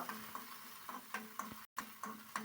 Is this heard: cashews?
yes